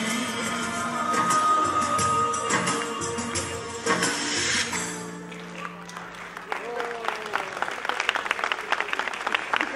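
Audience clapping at a preschool annual day function, scattered claps mixed with music and amplified voices at first, then sharper, more distinct claps rising toward the end.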